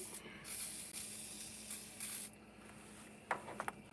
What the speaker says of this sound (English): I'm going to spray this again, so this is all getting freed up.